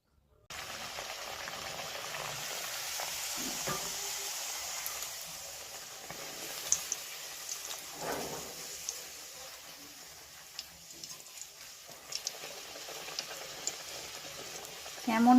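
Red beet kachori deep-frying in hot oil gives a steady, fairly quiet bubbling hiss with scattered small crackles that continues throughout.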